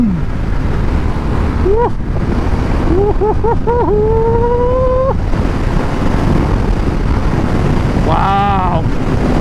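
A 2023 Harley-Davidson Sportster S ridden hard at speed gives a steady, loud roar buried under heavy wind buffeting, while the rider lets out a few rising whoops over it.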